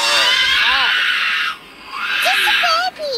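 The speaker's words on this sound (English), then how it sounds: "The baby's freaking out in the background." A baby screams in a played recording, shrill wavering cries and squeals in several bursts with brief gaps, loud and close, over a hissy background.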